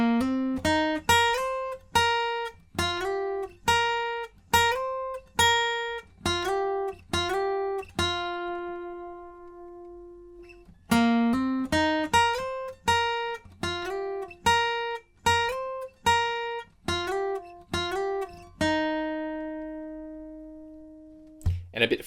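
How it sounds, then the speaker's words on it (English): An acoustic guitar with a capo fingerpicks a lead lick, playing clear, close plucked notes in two repeated phrases, each ending on a ringing sustained note, with no talking. "So in total, the lead lick will sound like this."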